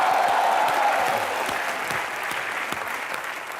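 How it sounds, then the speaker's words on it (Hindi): A TV comedy studio audience applauds Mithun Da's arrival with loud, sustained clapping and some crowd noise that eases slightly toward the end. "एक बार मिथुन दा के लिए जोरदार तालियां।"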